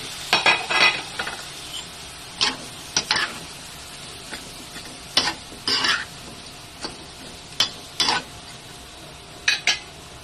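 Vegetables sizzle softly in a frying pan while a utensil stirs and scrapes against the metal in irregular bursts, close and fairly quiet, with no talk.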